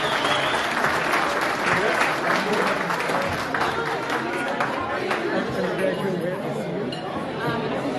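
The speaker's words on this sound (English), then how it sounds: "Give them a round of applause." Round of applause from diners at a Chamber of Commerce annual banquet in a college hall, steady clapping that gradually thins, with murmured chatter and occasional glass clinks underneath.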